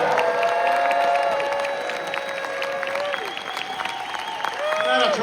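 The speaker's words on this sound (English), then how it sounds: "Please give it up for composer Hans Zimmer." Audience applause and cheering greet composer Hans Zimmer at an F1 movie Q&A, a loud, dense wash of clapping with a few whoops that stays steady for several seconds.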